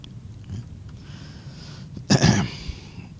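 A single short, sharp sneeze bursts out near the end of a quiet stretch in a classroom setting, loud and abrupt against faint background noise.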